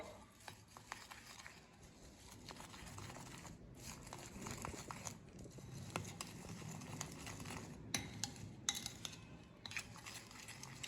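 A spoon stirs and scrapes through beaten eggs mixed with garam masala, cumin and fenugreek powder in a bowl for an omelette, with soft continuous clinks and wet patter close by.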